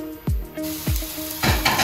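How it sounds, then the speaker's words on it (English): Potatoes and chicken frying in a pan, sharp sizzling bursts as food hits the hot oil, three quick hissing surges in close succession, loud and near. "we're gonna put them in the pan now to fry them up."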